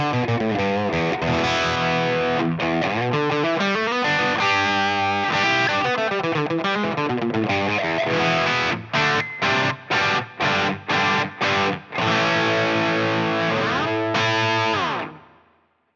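Distorted electric guitar through a Line 6 Helix amp model and cab, with a fizzy, sizzling top end, sustained chords then choppy staccato stabs, ending in a fading ring-out.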